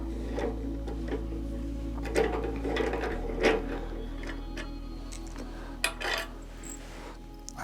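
Bolts being undone by hand on a 3D printer frame, giving scattered light metallic clicks and ticks over a steady low machine hum, close by with no talking.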